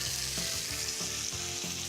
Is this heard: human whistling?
no